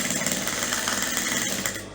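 A sewing machine stitches an elastic side waistband, its needle rattling in a quick, even close-up rhythm before slowing and fading at the end.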